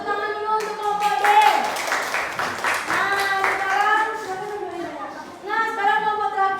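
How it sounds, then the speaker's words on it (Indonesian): Classroom applause from a fourth-grade class for a student group, short rounds of clapping mixed with children's chatter and an adult voice talking over them. "Silakan memberi tepuk tangan dulu untuk kelompok D."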